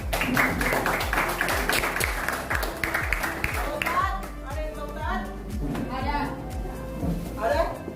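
Students in a Grade 7 Islamic studies classroom at a madrasah in Gorontalo clap their hands together in a steady, fairly close burst of rhythmic claps, with voices talking over it.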